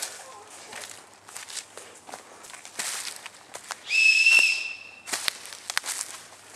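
A personal alarm whistle blown outdoors gives a loud, shrill, steady tone for about a second, set among footsteps, rustling and brief voices.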